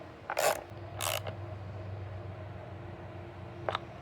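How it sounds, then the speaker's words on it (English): A socket wrench ratchets in two quick bursts, then once more near the end, while crossbars are fitted to a Tesla Cybertruck. The clicks are close and crisp over a low, quiet background. "And go ahead and use your socket wrench."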